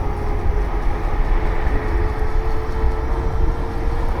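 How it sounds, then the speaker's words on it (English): An electric bike's motor whines steadily while riding on quiet tires over driveways, a continuous close hum with a thin sustained tone riding over rumbling road and wind noise. "the motor's so much louder now that these tires don't make any noise"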